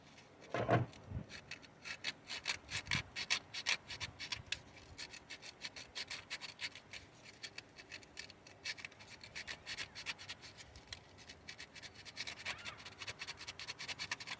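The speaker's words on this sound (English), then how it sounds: "try to make sure that it's nice and sanded." Sanding a ground wire contact clean on a 2002 Dodge Ram with a 5.9L engine: a continuous close scratchy rubbing rasp in quick uneven strokes, steady and moderately loud throughout.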